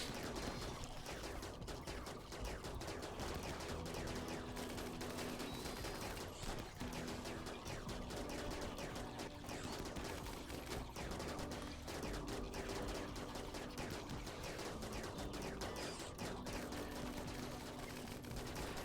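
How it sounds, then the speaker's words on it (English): Dense, continuous rattle of distant explosions and gunfire in the colony game RimWorld, a steady unbroken barrage with a faint hum beneath, no talk. "I hear so many explosions"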